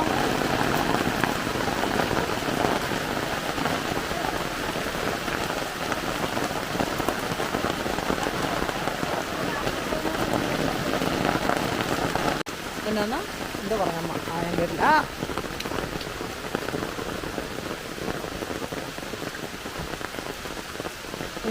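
Steady rain falls throughout, a dense hiss of drops on a hard surface, continuous and fairly loud with no pauses.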